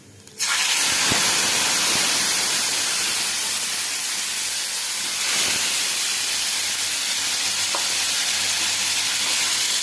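Panch phutana spices spluttering and crackling in hot oil for a no-onion, no-garlic jackfruit and moong dal dalma, a steady loud sizzle with scattered sharp pops that starts abruptly and runs throughout, with no talking.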